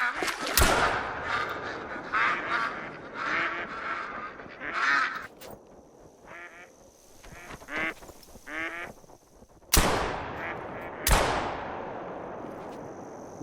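Ducks quack and honk repeatedly in TheHunter: Call of the Wild during a duck hunt, with sharp, loud hunting-gun shots cracking out three times and echoing, and the calls continuing between the blasts.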